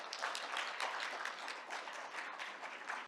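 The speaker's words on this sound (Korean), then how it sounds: "모두 큰 박수로 맞아주시기 바랍니다." An audience at a unification conference applauds to welcome the opening speaker, a continuous, even patter of many hands clapping that sounds slightly distant and fades at the end.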